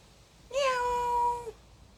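A single clear meow from a three-legged cat with a lame leg, close and fairly loud, lasting about a second with a slightly rising then falling tone against a quiet background.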